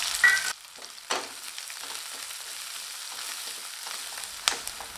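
Ginger, garlic and onion sauté in a pan with a soft, steady sizzle, broken by a few sharp stirring scrapes and clinks of the spoon against the pan.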